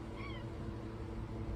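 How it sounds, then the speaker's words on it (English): A stray cat gives a single faint, brief meow from a distance over a steady background hiss. "That's a stray cat if you hear her meowing."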